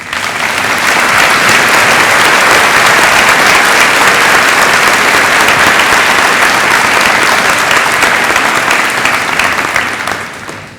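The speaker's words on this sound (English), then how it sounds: "Would you give them a hand of applause?" Audience at a Fremont, Indiana high school graduation ceremony applauding the 2009 school staff, a loud sustained wash of clapping from a large crowd lasting about ten seconds before fading out.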